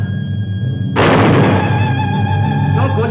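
Gunfire in a 1961 Hindi film scene: a single loud boom cuts in suddenly over quieter background music, followed by a ringing, reverberant tail as the music continues.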